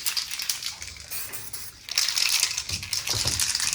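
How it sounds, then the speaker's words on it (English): A steady hiss of a 2K aerosol spray can, released in two loud, close test bursts separated by a short pause, before respraying a car roof. "Okay, do a test spray."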